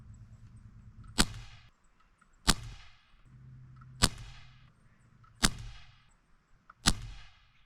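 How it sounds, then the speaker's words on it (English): Walmart's cheapest airgun firing five BB shots, each a sharp, loud crack with a short ringing tail, spaced evenly about a second and a half apart against a quiet background. "now I'll do a group of 5 shots with the BBs"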